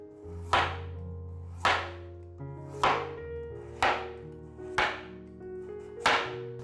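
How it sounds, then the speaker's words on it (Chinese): Carrot being cut into strips with a knife on a board. Six evenly spaced, crisp chops land about once a second, close and clear, over soft background music with no talking. "把红萝卜切成条状。"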